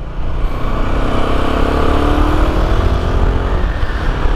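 Royal Enfield Himalayan 450 motorcycle ridden in eco mode, its engine a steady loud drone with a gently rising pitch as it pulls along, with wind noise throughout.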